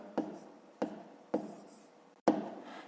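Pen strokes on paper during a fifth-grade math exercise form four sharp, close scratching bursts spaced under a second apart, quiet in between and with no talk.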